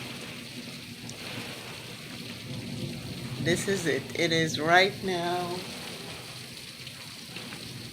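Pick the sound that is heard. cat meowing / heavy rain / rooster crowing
heavy rain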